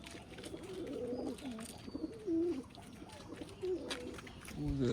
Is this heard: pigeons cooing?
yes